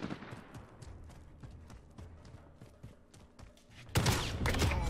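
Shotgun fire in the video game Modern Warfare comes as a rapid run of sharp, punchy blasts spaced a fraction of a second apart. A louder, denser burst of gunfire and noise arrives near the end.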